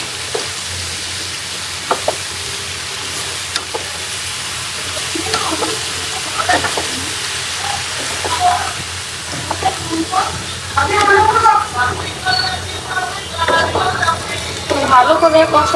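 Ridge gourd and potatoes fry in a pan as they are stirred and sautéed, a steady sizzle broken by scraping and clinking, close, with a person talking and a brief trickle of water.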